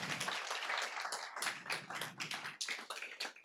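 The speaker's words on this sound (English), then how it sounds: "can we get a round of applause for Venture Labs?" Scattered clapping from a small audience at a data science meetup in a tech space, uneven and fairly close, with individual claps standing out in irregular bursts over a few seconds.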